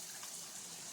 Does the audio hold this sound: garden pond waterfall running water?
yes